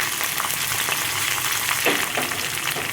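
Dried red chillies, green chillies and curry leaves sizzle in hot oil for a tempering, a close, steady crackling fry with light stirring and no voices.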